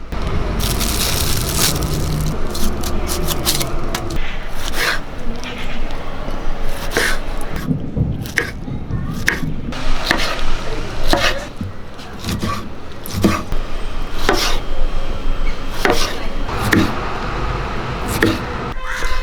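A pineapple is peeled and chopped for a Sadhya-style pineapple curry, giving repeated crisp knife cuts and wet crunching slices in an irregular rhythm, close and fairly loud.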